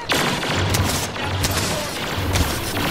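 Blaster fire in the video game Star Wars Battlefront, a dense, continuous barrage of shots and booming impacts, loud and close throughout with no clear speech.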